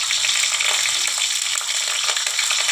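Nigella seeds, whole cumin and green chillies crackle in hot oil, giving a dense, steady, close-up sizzle that holds evenly without a break and with no voices over it.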